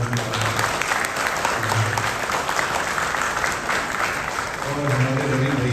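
An audience at a Sahaja Yoga collective gathering in Dubai gives sustained applause for the musicians, a dense, even wash of many hands clapping, with a voice speaking faintly beneath it at times.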